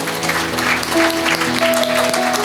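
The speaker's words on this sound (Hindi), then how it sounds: "पहले जोरदार तालियां बजाएंगे।" Church congregation at a night prayer service clapping loudly and continuously, a thick wash of applause with sustained musical tones ringing underneath.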